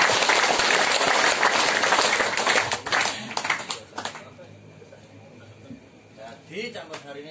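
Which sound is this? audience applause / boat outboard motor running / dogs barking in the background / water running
audience applause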